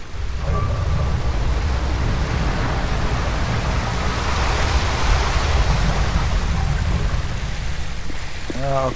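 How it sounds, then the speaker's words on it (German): Rushing water surges continuously as the water level rises in the video game Tomb Raider Anniversary, a loud steady broadband roar lasting throughout, with a brief voice heard near the end. "Jetzt habe den Wasserstand erhöht."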